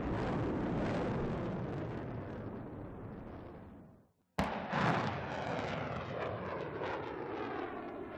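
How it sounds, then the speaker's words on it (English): PAC-3 missiles leave a remote launch station in ripple fire during a tactical test engagement: a loud roaring rush fades away, drops briefly to near silence, then a sharp blast opens a second sustained roar. "The mission sequence was a tactical engagement with a ripple fire against the Patriot as a target TBM."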